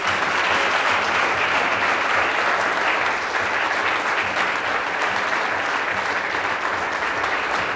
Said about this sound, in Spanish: Vamos, dale un fuerte aplauso a Jesús.